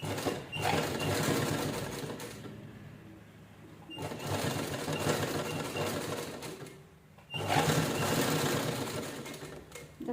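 A sewing machine stitches a fabric purse in three bursts, each a close, steady rattling whir lasting a couple of seconds, separated by brief quiet pauses.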